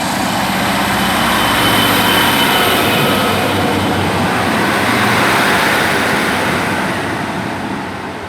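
Class 155 diesel unit 155345 pulls away from a station, a loud sustained low engine rumble with rushing noise that holds steady, then eases off slightly as it departs.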